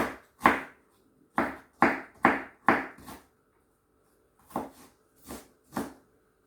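A knife chops food on a board in short bursts of dull, close thuds, a quick run of five strikes, a pause, then four more, with no talking.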